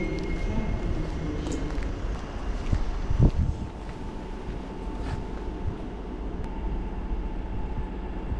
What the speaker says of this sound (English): I do like this train.